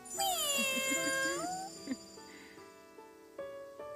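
A cat meows loudly and close in a long, wavering drawn-out call, followed by a quieter short mew and faint jingling, with a voice speaking softly afterward.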